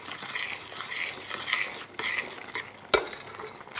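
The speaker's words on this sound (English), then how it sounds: "Stir the spices in." A spoon stirs spices into simmering sweet potato dahl with turmeric and black pepper, giving soft repeated scraping and swishing strokes close by, a gentle bubbling beneath and one sharp clink against the pot.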